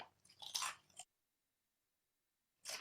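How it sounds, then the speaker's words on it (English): Toasted cauliflower chips crunched close to the mouth: a second of crisp biting and chewing, a pause of silence, then another burst of crunching. "I know it's noisy, but I'm gonna have one or two of these toasted cauliflower chips."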